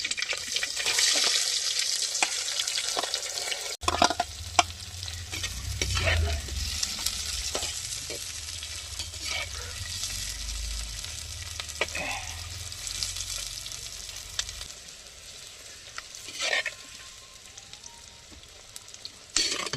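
Onions and green chillies fry in a clay pot on a stove with drumstick leaves, a close sizzle broken by repeated scraping stir strokes over a low rumble through the middle stretch, with no talking.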